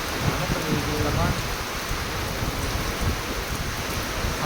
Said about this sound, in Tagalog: Ay, ulan. Parang lalo pang lumalakas.